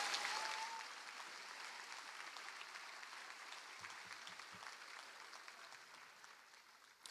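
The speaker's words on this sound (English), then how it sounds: "Go ahead and give them a round of applause." Applause from a college commencement crowd at Chabot College's 2024 graduation, a steady, fairly distant wash of clapping that holds evenly for several seconds before easing slightly.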